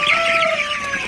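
Broiler chickens cluck and call close by while drinking water on a hot morning, a short burst of overlapping bird sounds.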